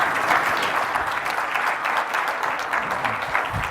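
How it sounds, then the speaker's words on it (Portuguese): A large audience at a communications congress applauds panel speakers, a dense, loud, sustained roar of many hands clapping together with no talking over it. "peço uma enorme salva de palmas para os nossos oradores"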